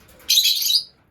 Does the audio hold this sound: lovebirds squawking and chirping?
yes